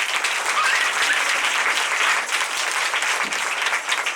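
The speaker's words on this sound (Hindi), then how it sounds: "वो भी जोर से ताली बजाएंगे।" Worshippers at a worship gathering clap loudly together in a steady, dense burst that fills the room and carries on without pause.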